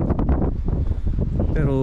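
Strong wind roars and buffets the microphone steadily on the summit of Mt. Timbak, a high peak in Luzon, with a brief tonal sound rising near the end.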